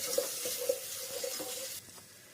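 Ginger garlic paste and a little sugar fry in a pan with a soft, steady sizzle while a spoon scrapes and stirs in a few quick strokes, faint and close, dropping quieter near the end.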